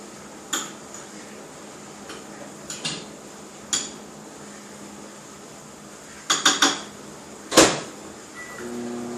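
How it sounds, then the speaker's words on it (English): A spoon clinks against a microwave bowl while stirring chicken soup, with a few sharp scattered clinks and a brief cluster of quick taps in a quiet kitchen. "I'm going to give it another stir"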